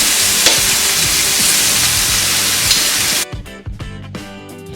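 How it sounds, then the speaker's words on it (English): Pieces of steak sear in a hot pot with a loud, dense, continuous sizzle that drops sharply toward the end into crackles and spits. "I'm just gonna drop the pieces of steak into the pot, and we're looking to get a nice sear all over the steak."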